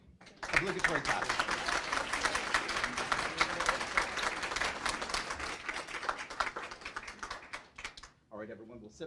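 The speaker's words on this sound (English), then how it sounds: "Obligatory clap." A small group claps together at a press conference photo op, a quick burst of close, distinct hand claps that builds and then thins out, with voices talking briefly at the end.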